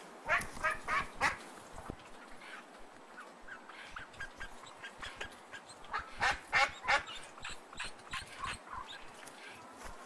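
A small, upset pet duck gives repeated raspy quacks and honking calls in irregular bursts, close by and moderately loud, with pauses between calls.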